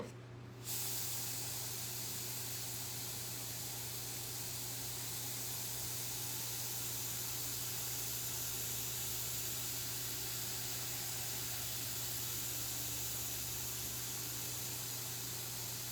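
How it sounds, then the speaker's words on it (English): Airbrush sprays steadily onto canvas while a signature is painted freehand, a continuous close hiss that starts abruptly after a brief quiet moment and holds level throughout with a low hum beneath. "I'm going to airbrush my signature onto the canvas."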